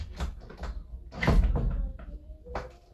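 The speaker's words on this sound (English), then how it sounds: "Close that door." A door being shut indoors during a class Q&A, heard as a couple of knocking thuds and a firmer mid-clip bump, with some voices and room noise around it.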